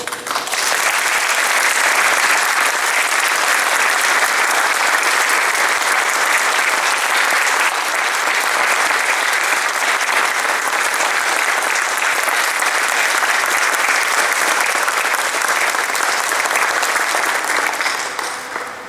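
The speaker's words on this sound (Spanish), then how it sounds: "Ahora, como homenaje, brindemos un caluroso aplauso" Warm, sustained applause from an audience at a posthumous tribute to a city chronicler, dense and steady for the full length, with no voices standing out.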